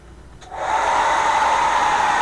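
A hair dryer switches on about half a second in, a small click followed by a steady loud whir with a high whine that holds to the end.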